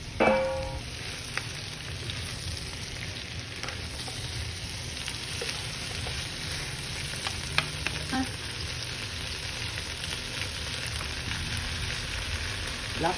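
Kangkong (water spinach) and onions fry in a pan, a steady loud sizzle with occasional clinks and stirring scrapes, continuous throughout with no talking.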